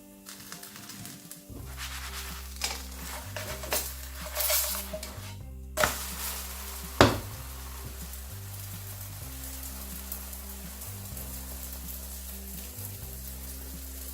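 A Nigerian pancake fries in a pan with a steady, soft sizzle over a low droning hum, broken by a few brief clatters near the middle.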